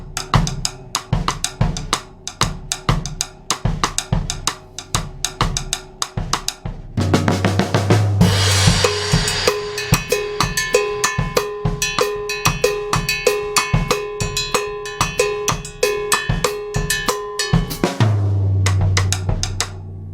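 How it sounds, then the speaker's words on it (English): Afro-Cuban mambo transition fill played on snare and floor tom, a steady run of sharp drum strokes that swells into a dense, ringing build from about seven seconds before dropping back to the groove near the end. "I like to play this with the snare and the floor tom"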